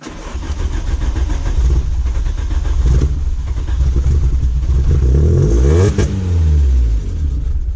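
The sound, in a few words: Volkswagen Golf 2 GTI 16V engine revving at first start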